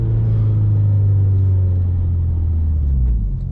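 A modified Subaru WRX with a new pro tune idles and runs steadily, a deep, loud, continuous engine rumble heard close up and on its own with no voices.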